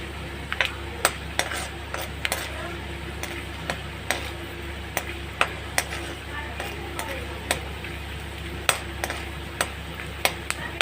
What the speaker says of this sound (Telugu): ఇప్పుడు రెండు స్పూన్లు వేరుశనగ గుళ్ళు వేసి ఫ్రై చేస్తున్నాను